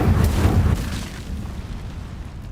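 The Incendio fire spell goes off in Hogwarts Legacy: a loud, deep burst with a whooshing rumble that fades over about two seconds, with nothing else audible.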